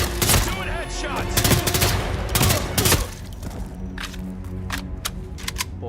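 Bursts of gunfire in the stealth action game Hitman 3, with rapid sharp shots packed densely in the first three seconds, then sparser scattered cracks over a lingering ambient bed, loud and close.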